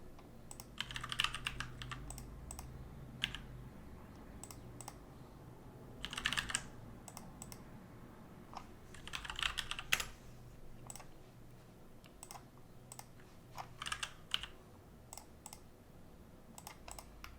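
Bursts of rapid clicking from a computer keyboard as entries go into CRM address fields, several short runs of typing separated by pauses, close and fairly quiet with no talk.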